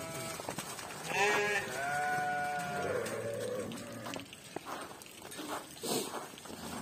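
Sheep and lambs bleat at a livestock market, several wavering calls overlapping near and far over a busy outdoor hum, with a few distant voices.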